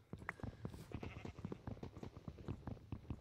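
Sheep in the Minecraft video game bleat repeatedly in short, choppy calls, quite close and steady, with no talk over them.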